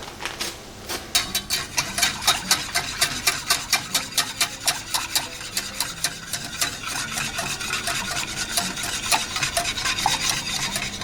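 A spoon briskly stirring Schwartz chicken and leek bake sachet powder into milk in a pan, with a fast, steady run of rhythmic scraping strokes that is close and clear, with no talking.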